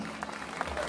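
A quiet, short stretch of audience applause at a gala concert in Goris, a soft, even patter of many hands that sounds somewhat distant.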